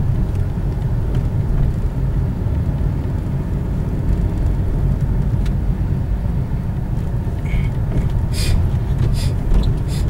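A car driving through busy town-centre traffic in Sonsonate, a steady close engine and road rumble that runs unbroken throughout, with faint higher sounds from the street late on.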